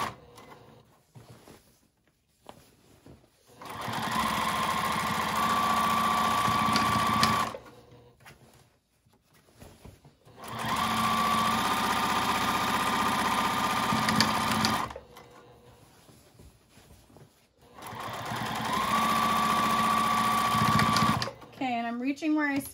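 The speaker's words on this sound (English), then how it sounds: "Make sure you're only sewing through the fabric that you want to be sewing through." A sewing machine stitching fabric for a reusable shopping bag runs in three bursts of steady, rapid mechanical whirring, each several seconds long, with quiet pauses in between and a little handling noise.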